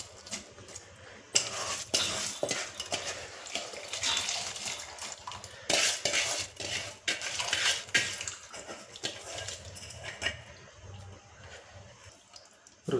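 Washed rice tipped into a pot of greens pulao and stirred, giving wet scraping and clinking of a spoon against metal with splashy water sounds, close and fairly busy, with no one speaking.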